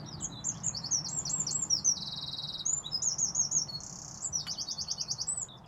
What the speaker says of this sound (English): I'm going to check if that's a robin.